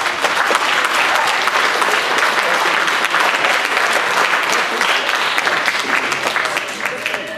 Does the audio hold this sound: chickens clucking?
no